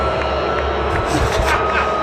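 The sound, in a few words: crowd booing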